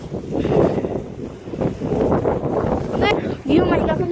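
Strong, gusty wind buffets the microphone outdoors in a residential neighbourhood, a continuous roaring rush with surges, while people talk over it.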